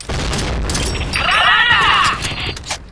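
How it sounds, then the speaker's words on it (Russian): Grenade blast in the online shooter Point Blank, a broad rumbling boom with a ringing, warbling tail that swells and fades over a couple of seconds amid constant game noise. "Граната!"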